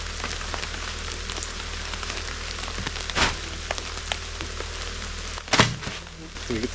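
Heavy rain falls outdoors at an off-grid log cabin building site in Alaska, a steady dense hiss of drops on surfaces with a few sharper knocks and thuds.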